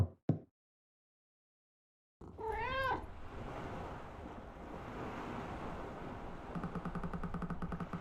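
A cat meows once in the Spirittea video game, a short rising call after a moment of silence, followed by a steady ambient wash like wind or surf with a faint rhythmic pattern toward the end.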